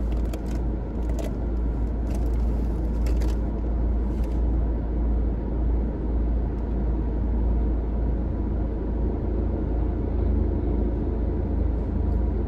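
A truck rolls up in a parking lot with a continuous low engine rumble and road noise, steady and moderately close, with faint clinks and no speech.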